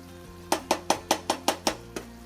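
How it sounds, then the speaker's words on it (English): Caramel mixture of cream, butter and sugar being stirred gently in a pot, giving seven evenly spaced clinks and scrapes of a utensil against the pot's side, close and clear, with no talking. "I'm just going to stir it very gently to make sure that all of my cream, butter, and sugar mixture is combined well"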